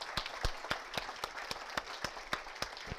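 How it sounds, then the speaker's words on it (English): Clapping at a Pennsylvania Gaming Control Board public meeting, heard as a steady, evenly spaced run of sharp claps from a small group in a quiet room. "So let's give everybody a hand of applause."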